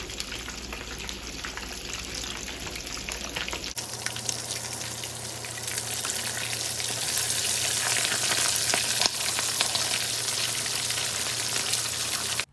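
Whole fish frying in hot oil in a small pot for Jamaican escovitch fish, a loud, steady, dense sizzle that swells and continues without pause, with a few faint clinks of handling.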